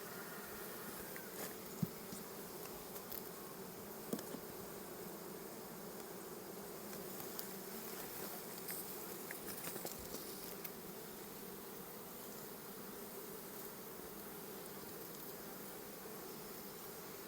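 Bees swarm and hum around an open eight-frame hive during a brood inspection, a steady, close insect drone that fills the whole stretch with no talk.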